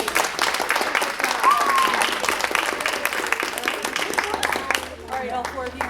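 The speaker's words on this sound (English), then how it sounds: "Give them a round of applause, please." An audience at a third-grade string recital gives the young students a round of applause, busy clapping under scattered voices and murmurs that fades toward the end.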